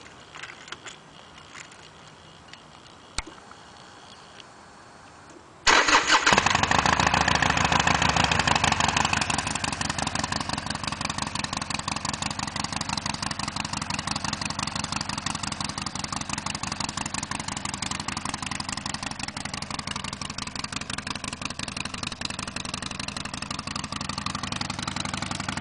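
A chrome Harley-Davidson XL 1200L Sportster with a Screaming Eagle II exhaust: quiet clicks, then the engine catches abruptly and revs high for a few seconds before settling into a steady, loud, throbbing idle.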